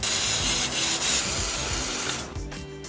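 Gold lacquer spray paint hissing steadily from an aerosol can onto a 3D-pen lion figure set on cardboard, one long continuous loud spray that tapers off near the end, close by with no voices.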